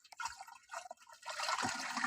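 Liquid from a small container is poured into a half-filled farm spray tank of water, making quiet, uneven trickling and splashing that builds into a steadier gurgling stream.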